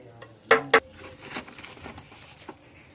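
A son stirring biryani in a pot over an outdoor wood-fire stove: two sharp metallic clinks close together, then faint, scattered scraping taps against a quiet background.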